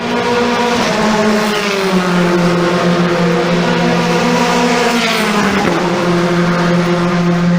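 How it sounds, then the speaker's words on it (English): F4 race cars at Clark International Speedway in the Philippines, a loud, continuous engine drone with rising and falling revs as cars pass, dominating the scene with no voices heard. "we're here at the racetrack at Clark International Speedway, and as you can see, there are the cars"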